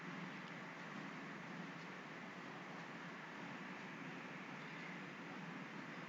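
Synthesized wind-like noise from an electronic music track: a steady, dense broadband hiss that holds level throughout with gentle shifting texture, alone with no voices.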